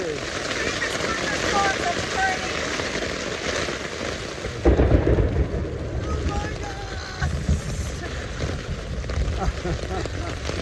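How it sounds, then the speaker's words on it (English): Rain patters steadily on a tent while thunder rumbles low in the Pyrenees mountains, with a heavier rolling boom about midway; the storm sounds close and continuous. "in the middle of a thunderstorm"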